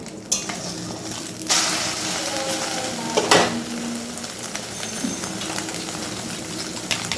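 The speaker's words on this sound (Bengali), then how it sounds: "এরকম হালকা ভেজে আমি ডিমগুলোকে তুলে নেব" Eggs with green chillies frying in oil in a pan, a steady close sizzle that runs throughout, with occasional clinks and scrapes of a utensil against the pan.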